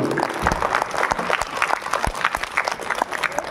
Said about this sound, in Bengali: আমরা সবাই জোরের হাততালি দিয়ে এর পুরস্কার দিতে চাই জোর হাততালি